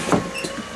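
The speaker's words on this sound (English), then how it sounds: "It's lowering the windows." Electric power windows on a Corvette lowering, with a short motor whir and a soft mechanical thud near the start, followed by a steady low hum.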